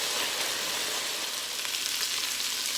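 Meat fries in oil in a Cajun jambalaya pot with a steady, close, crackling sizzle that holds at an even level throughout, and no voices.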